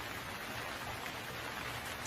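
Steady rain pours in an animated Hindi cartoon story, a continuous even hiss of falling water with no voices, holding level and unbroken from start to finish.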